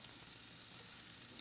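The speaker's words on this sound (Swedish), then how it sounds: "Fräs det smulade rågbrödet i smör i en stekpanna i några minuter." Crumbled rye bread fries in butter in a pan, giving a steady, faint, close sizzle with no voices.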